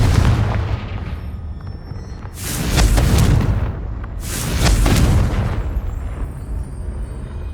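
Two loud, booming blasting-spell explosions from the video game Hogwarts Legacy, each a heavy rumbling burst that swells and fades, over a constant low roar.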